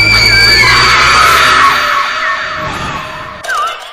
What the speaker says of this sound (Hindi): अचानक से एक जोरदार चीख सुनाई देती है।